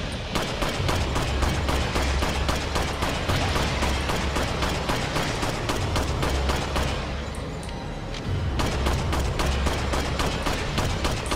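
Rapid, continuous gunfire from Resident Evil 4 during a pistol challenge, dense repeated shots hammering for several seconds, briefly thinning out before resuming at full intensity.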